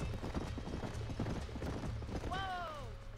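Horse hooves clip-clopping steadily in Red Dead Redemption, under game music and ambience, followed by a whinny near the end.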